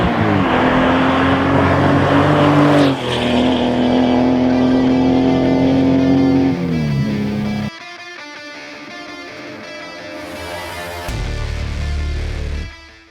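A hot-rodded 1990s Porsche 964 with a tuned engine drives past, its loud, close engine holding steady tones that rise and then drop sharply, then rev again before cutting off.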